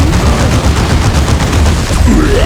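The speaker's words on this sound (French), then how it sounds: "On subit les tirs." Dense, loud gunfire rattles continuously in the Dawn of War 2 strategy game, with overlapping bursts of rapid shots and occasional booms forming an unbroken battle din.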